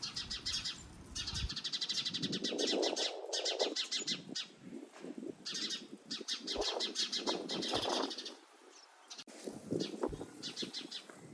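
A wild finch calls nearby in quick bursts of bright, repeated chirps, pausing between runs against a quiet outdoor background.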